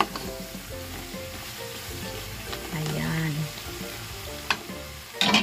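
Squash and chayote frying in a pan with pork crackle and sizzle close up, with stirring scrapes and a brief low tonal hum midway, plus a couple of sharp utensil clacks toward the end; no talking.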